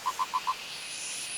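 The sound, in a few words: purple frogs calling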